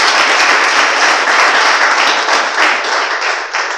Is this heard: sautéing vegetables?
no